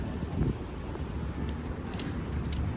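Strong wind in a snowstorm roars steadily against the microphone, a loud, continuous rumbling gust noise with a brief surge near the start and no talk.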